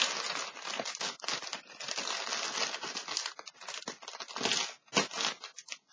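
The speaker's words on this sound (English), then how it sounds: "So we'll cut open this bag." A plastic bag being cut open during a swap package unboxing, giving a steady close crinkling and rustling of plastic with a few sharper crackles and brief pauses near the end.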